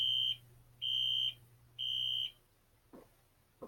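An E-T 20101 fire alarm system sounds a zone alarm: three evenly spaced, piercing electronic tones with a low hum beneath, then the tones stop and a couple of faint clicks follow.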